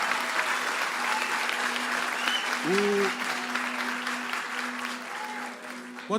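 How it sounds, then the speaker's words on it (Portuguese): A church congregation at a live worship service applauds in a sustained, dense wash of clapping that continues throughout, with brief voices and a soft tone rising in the background. "pode aplaudir o Senhor"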